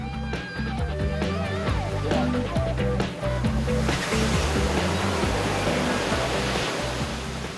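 Ocean surf rolls in continuously at Hull Bay, St. Thomas, a reef-break beach in the Virgin Islands, loud and close, a broad roar with a low tonal hum under it and no voices.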